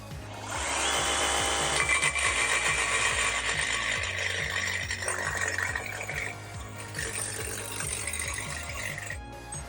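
A DeWalt reciprocating saw cuts through thick steel, giving a loud, rapid chattering buzz with rhythmic low pulses from the blade strokes, steady for several seconds before easing near the end.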